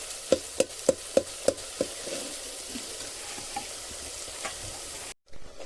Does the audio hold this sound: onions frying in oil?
yes